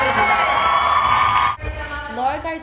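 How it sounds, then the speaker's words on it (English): An audience at a Nike Hispanic Heritage event applauds and cheers loudly for about a second and a half, then the noise drops away abruptly and a voice is heard over a quieter room. "Give them a round of applause."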